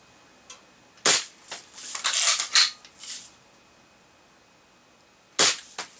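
A Crosman Marlin Cowboy lever-action air rifle fires at a target, giving a sharp snap followed by metallic clicks and clatter of the lever being worked, then another crisp report near the end.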